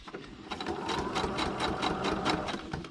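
A sewing machine stitches through paper in a fast, steady, close-up mechanical chatter, needle strokes repeating rapidly and evenly for a few seconds without talk.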